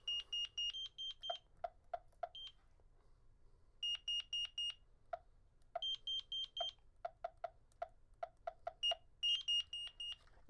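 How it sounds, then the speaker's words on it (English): An Interlogix Simon XTi security alarm keypad beeps through its arming countdown in short repeated groups of clear electronic tones, fairly faint and alone in a quiet room. "We have our timer countdown on the keypad, and it's working as expected."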